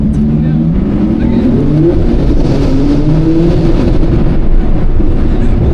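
A Ferrari sports car engine roars loudly and continuously, its pitch rising and falling as it revs, with people talking over it.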